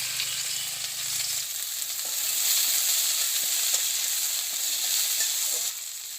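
Okra frying in a pan in a village kitchen gives a steady, close hiss of sizzling oil that swells slightly midway, with light stirring clicks and no voices.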